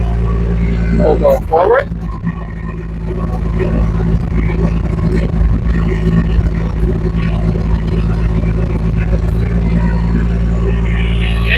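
Rippa R15 mini excavator with full cab driving in high gear, a loud steady low engine drone with rumbling tracks throughout, close by, while someone talks briefly over it near the start.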